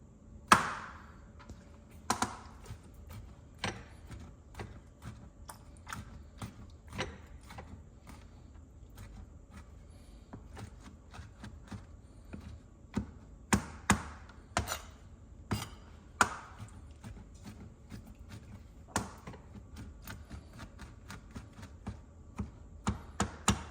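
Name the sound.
knife chopping jalapeno on cutting board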